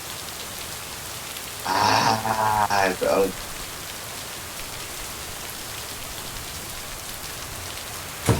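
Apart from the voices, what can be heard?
rain in the video game Lake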